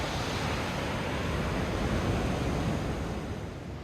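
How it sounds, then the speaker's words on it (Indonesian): Large ocean waves on Bali's south coast below the Uluwatu cliffs wash and roar continuously, a broad close surf rush with wind noise and no voices. "Bisa kalian lihat ombak di pantai selatan ini lumayan besar ya ketimbang di pantai utara."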